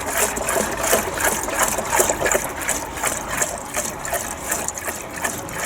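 Water pours unevenly from a watering can, a splashing trickle with rhythmic surges and gurgles that keeps on throughout, close and moderately loud.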